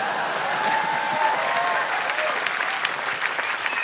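A comedy club audience applauds steadily at a stand-up show, a dense, even wash of clapping that holds at a fairly loud level throughout with no talk over it.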